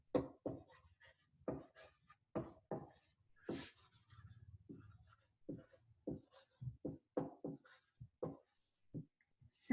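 Marker or chalk strokes on a classroom board come as a quiet series of short, separate scratches and taps with gaps between them, close and alone.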